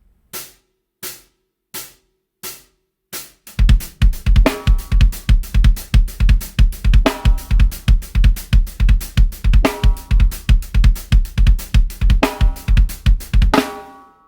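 Several isolated drum hits, then a steady run of punchy low kick drum beats alternating between 16th notes and 16th-note triplets, loud and close with no talking.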